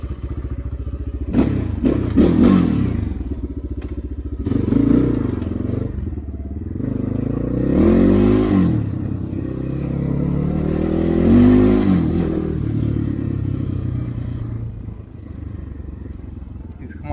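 A KOVI MAX 300 motorcycle rides through a forest, its engine rising and falling in repeated revving surges with clattering and thumps over rough ground.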